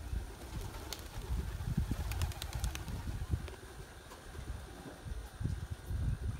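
Racing pigeons in a loft: soft cooing and occasional wing flutters under a constant noisy background hum, close by and moderately loud, with no speech.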